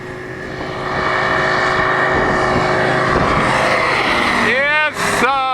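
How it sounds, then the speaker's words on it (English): A Kappa light aircraft with a Rotax engine drones steadily and loudly as it flies, its pitch sweeping and shifting near the end as it passes. "83-year-old Glenn Zelstra, who is flying this Kappa plane with Rotax engine."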